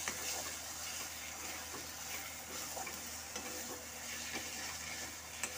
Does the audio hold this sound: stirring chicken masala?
yes